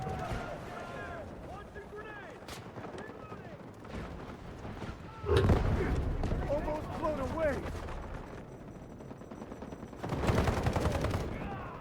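Gunfire in the video game Delta Force, with bursts of automatic shots and loud rattling volleys. Players talk over the shooting throughout.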